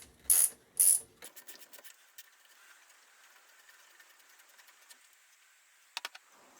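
Ratchet clicking on a 14mm nut of a Suzuki Hayabusa, a few sharp close clicks followed by a quieter run of light ratcheting ticks and a final brief burst.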